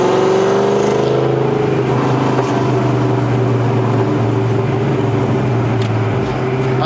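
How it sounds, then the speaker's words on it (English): A Ford Mustang Terminator Cobra engine, a car that has had overheating trouble, holds a loud, steady, close rumbling drone throughout with no voices. "I love the way my engine sounds."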